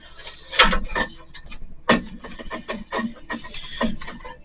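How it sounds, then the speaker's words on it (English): An oily part from a 15-year-old Toro snowblower gets a quick hand scrub, giving a few close, uneven bursts of rough rubbing and rasping separated by short pauses. "Give it a little scrub"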